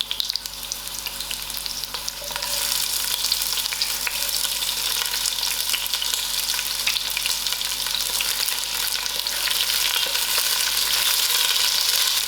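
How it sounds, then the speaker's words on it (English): Onions frying in about two tablespoons of oil for a lamb stew give a steady, loud hiss and crackle that swells after the first couple of seconds and holds through to the end. "To the oil, I'm adding in my onions."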